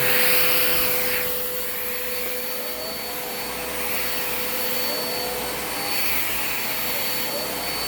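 A Kenmore Magic Blue vacuum cleaner runs steadily with its brush roll spinning, giving a loud continuous whine and airy roar with a constant tone, close by and alone throughout.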